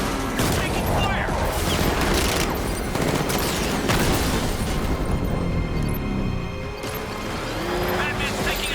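Gunfire aimed at Batman in Batman: Arkham Knight: sustained bursts of shots and booming impacts over rumbling machinery, loud and continuous, thinning briefly before picking up again, with voices in the mix.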